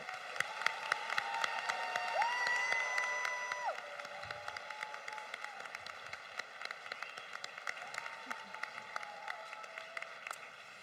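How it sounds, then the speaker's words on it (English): An audience at a high school graduation ceremony giving a round of applause, a steady wash of clapping with some cheering that swells and then settles, while sustained musical tones carry on underneath. "could we have one more round of applause for all of our talented musical performances tonight?"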